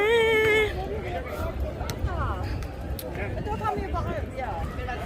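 Busy crowd hubbub outdoors, many overlapping voices and chatter at a steady level, with a nearer voice briefly standing out at the start.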